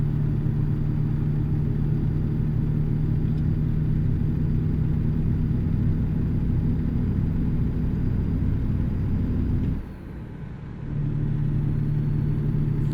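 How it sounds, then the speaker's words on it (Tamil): A truck engine in the driving game American Truck Simulator holds a steady low, rumbling drone. It dips briefly near the end before picking back up, with no talking over it. "வண்டியோட சவுண்டு பாருங்க கைஸ்."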